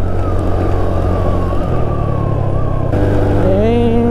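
Motorcycle carrying a passenger at full throttle on the steep mountain road to the Sitio Baag viewdeck on Capas-Botolan Road, a steady loud engine drone with rising tones near the end, close and continuous.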